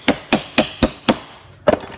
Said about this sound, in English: I tap it with a hammer so it sits in there